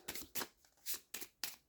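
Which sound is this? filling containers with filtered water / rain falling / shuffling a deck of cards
shuffling a deck of cards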